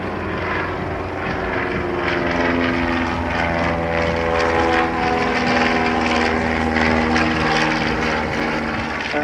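Propeller aircraft, such as a vintage Chipmunk trainer, flying slowly overhead at an air show, a steady droning engine hum with a strong buzzing tone, fairly loud and continuous, without talk.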